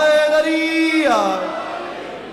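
Crowd at a religious gathering shouting the slogan Haideri together, one loud sustained collective chant that rises and then fades out.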